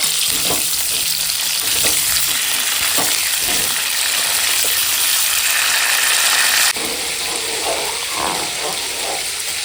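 Cauliflower frying in hot oil in a wok gives a steady, loud broadband sizzle, with occasional scraping stirs and a brief drop in intensity near the end.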